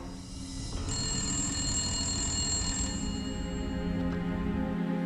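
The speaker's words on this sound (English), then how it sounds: "The phone rings, and I answered it" A telephone rings with a bright, sustained electronic trill that holds steady for several seconds, clear and fairly close, with no talking.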